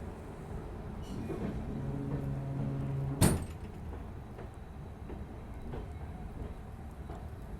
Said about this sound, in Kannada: ಇದು ನಮ್ಮನ್ನು ಲೀಡ್ ಮಾಡುತ್ತೆ ಮೈಸೂರದಿಂದ ಡೀಸೆಲ್ ಲೊಕೊಮೋಟಿವ್.